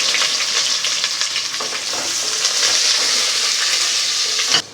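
A large chopped onion sizzles in half a cup of hot oil for matar pulao, a loud, steady, close-up fry that hisses continuously for nearly five seconds before cutting off abruptly.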